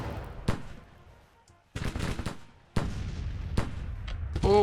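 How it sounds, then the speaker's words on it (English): Cannon fire in the Civil War strategy game Grand Tactician, sharp booming reports at irregular intervals over a quieter battlefield backdrop, some rounds close together, with no talking. "did I see our cannons firing?"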